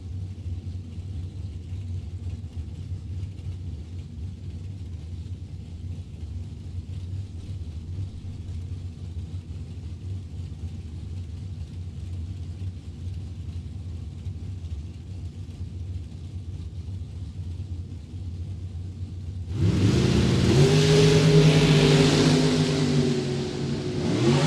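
Drag racing cars at a Super Pro bracket event idle with a low steady rumble for a long stretch, then a pair of dragsters launches and roars loudly down the strip near the end.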